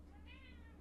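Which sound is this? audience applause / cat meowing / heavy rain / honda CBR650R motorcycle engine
cat meowing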